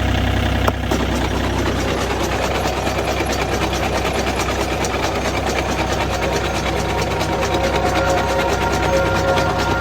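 A single row potato digger runs, probably driven by a tractor, with a loud, steady mechanical rumble and a rapid rattling clatter that continue unbroken after a brief thump at the start, close to the listener.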